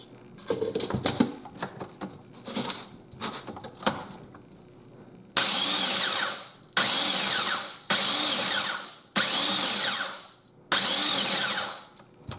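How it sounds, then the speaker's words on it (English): A small food processor grinds corn flakes, starting with a few short rattling pulses of crunching flakes and then five loud, evenly spaced whirring bursts of about a second each, close up with no speech. "I'm going to dump about half this bag of corn flakes into this little food processor here and grind them up."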